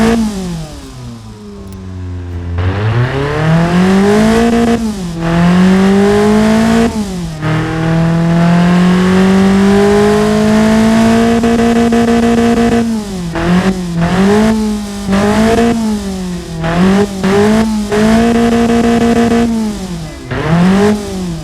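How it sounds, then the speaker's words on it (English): Tuned Hyundai 1.4-litre inline-four in a car-building game revs hard and repeatedly, with louder exhaust, pitch sweeping up and dropping back in a long series of rising pulls and quick blips, loud and close with no talk. "As you can hear, the engine sounds much better, and it performs much better."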